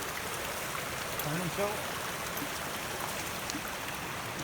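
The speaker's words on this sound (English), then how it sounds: "this creek, Wolf Creek, is right behind our campsite" Wolf Creek flowing behind a campsite in Vogel State Park, North Georgia, a steady, fairly close broadband rush of running water that holds constant throughout.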